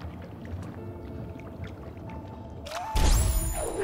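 Splashing water in the platformer game Ori and the Blind Forest: a sudden loud splash of entry near the end, followed by bubbly churning, over a soft ambient game soundscape.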